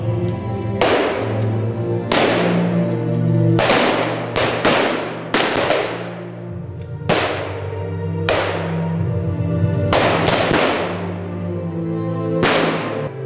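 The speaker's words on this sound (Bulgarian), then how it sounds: "Гъста мъгла от пушечни изстрели обгръща върха." Rifle gunfire from a battle sound effect in a documentary, with about a dozen sharp, loud shots at irregular intervals, some in quick pairs, over a low sustained drone.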